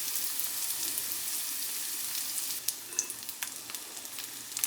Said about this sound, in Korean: 달군 팬에 식용유를 넉넉히 두르고 반죽을 떠 올려 모양을 만들어 중약불에서 익혀주세요.